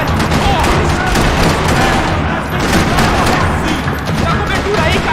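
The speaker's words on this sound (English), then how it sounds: "Another parking lot rattling with gunfire." Heavy gunfire in a parking lot in the video game Max Payne 3, loud dense bursts of shots and booms overlapping continuously, with shouting voices mixed into the chaos.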